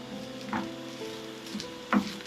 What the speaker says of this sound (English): But you can fry it more if you want it more brown.